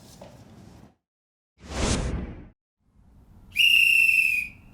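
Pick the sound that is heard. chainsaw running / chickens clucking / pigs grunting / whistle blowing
whistle blowing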